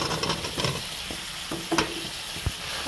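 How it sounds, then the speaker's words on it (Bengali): Potato and bottle gourd sauté in a spice masala, a close sizzle broken by a few sharp stirring scrapes and clinks of the spoon against the pan. "এখন দিয়ে দেবো আলু আর লাউ একসাথে"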